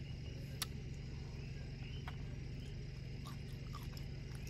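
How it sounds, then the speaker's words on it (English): Faint, steady chirping of coqui frogs fills a quiet night in the woods, with occasional sharp high calls rising above the constant background trill. "Can you guys hear the Coqui frogs?"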